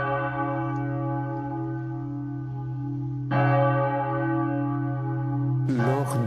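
Large bells of the St. Michael and St. Gudula Cathedral ring with long sustained humming tones. Fresh strikes come in partway through and again near the end, each swelling the resonant peal.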